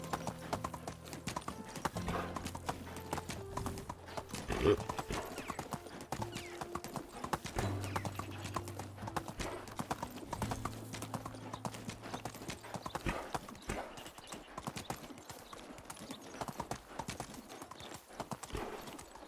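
Horse hooves clip-clopping steadily in a video game, a continuous rhythmic trot with occasional soft snorts and background game sounds, moderately quiet throughout.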